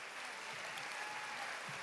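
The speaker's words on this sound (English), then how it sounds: "Let's give our hairstyling program another big round of applause." Steady applause from an audience at a career academy recognition ceremony honoring the hairstyling program, a dense even wash of clapping with no clear gaps, moderately distant.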